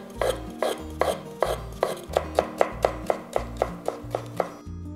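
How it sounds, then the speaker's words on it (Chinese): A knife slices cucumber into thin strips on a cutting board, giving about a dozen crisp, evenly spaced chops close up, with a low musical background beneath. "那我先来切小黄瓜丝哈"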